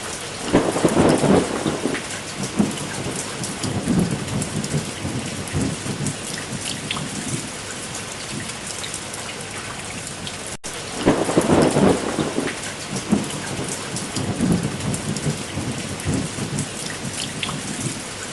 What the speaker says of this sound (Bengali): আবারও হুড়মুড়িয়ে বৃষ্টি শুরু হয়ে গেল